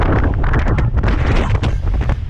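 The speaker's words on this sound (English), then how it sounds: "Really windy!" Strong wind roars across a ridge in the Torridon Mountains of Scotland, buffeting the microphone in a loud, continuous blustery rush with no talk.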